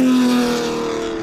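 A Ferrari 250 GTO 64 Series 2 V12 engine drones steadily, a close, loud, even mechanical hum with a slight fade over a brief moment.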